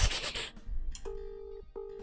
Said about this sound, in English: You take out your phone and dial the number.